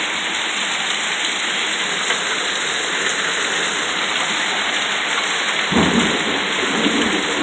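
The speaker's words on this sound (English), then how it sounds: "Lightning striking like a motherfucker!" Heavy rain pouring steadily in a thunderstorm, loud and close throughout, with a deep rumble of thunder swelling near the end; no one speaks.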